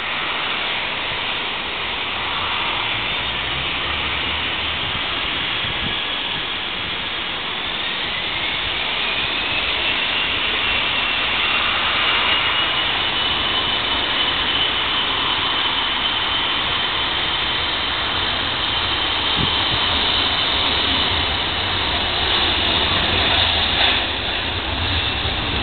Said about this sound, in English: Now it begins to take off. And here it goes.